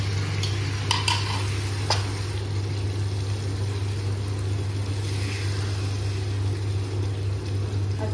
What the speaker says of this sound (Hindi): असी ये फ्रैश टमाटर प्यूरी पावांगे।